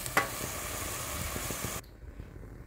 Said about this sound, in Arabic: ننزل بقى بالجزر والبسلة.